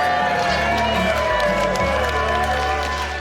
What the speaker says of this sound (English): Okay, another big round of applause.